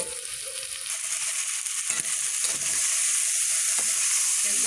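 Liver with garlic is added to onions frying in a pan, giving a steady, close sizzle with faint stirring scrapes throughout.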